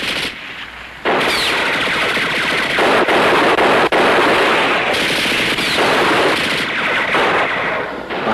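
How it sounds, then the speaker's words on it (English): Machine gun bursts and heavy gunfire fill a World War II TV drama battle scene at a bridge, loud, sustained and dense, with sharp rattling volleys over a rumbling background and no speech. "They're pinned down onto the bridge with a machine gun."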